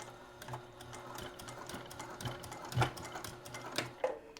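A sewing machine stitches down a fabric corner bookmark, its rapid needle clatter running close and steady with small rhythmic bumps throughout.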